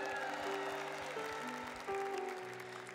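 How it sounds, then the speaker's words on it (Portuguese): Crowd clapping for a band's bass player during a live Christian music show, continuous applause over held instrumental notes and low musical pulses. "uma salva de palmas."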